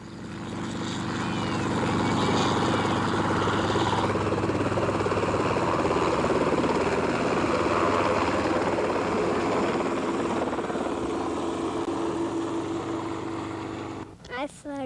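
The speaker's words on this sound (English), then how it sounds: "I thought I'd never have a helicopter ride, but I have to believe it because I just had one." During a ride, a helicopter's engine and rotor roar loud and steady from inside the cabin and fade out near the end, with voices faintly under the noise.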